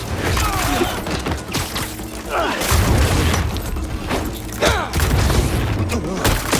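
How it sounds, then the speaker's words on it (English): A barrage of explosions in the Marvel's Spider-Man 2 video game: loud, close booms and crashing impacts come in quick succession over a busy soundtrack, and voices speak at times. "Relocating. Firing barrage!"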